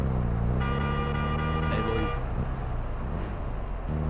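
Car horn blaring in Warzone 2, a sustained loud honk held for over a second amid droning engine-like tones and game ambience, with no talk.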